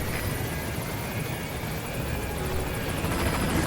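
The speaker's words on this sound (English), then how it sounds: "let's just call our helicopter back" A helicopter arrives in the video game Metal Gear Solid V: The Phantom Pain: a loud, continuous rotor and engine roar with a thick rumble, steady throughout with no voices.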